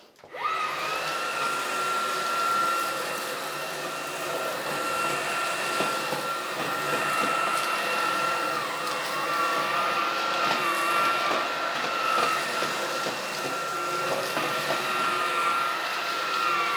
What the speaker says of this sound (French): la brosse agrippe le tapis et elle embarque mon aspirateur vers l'avant